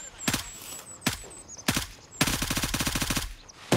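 Gunfire in the military shooter Gray Zone Warfare: several sharp single shots spaced apart, then a rapid automatic burst, fairly close and loud over a quiet background.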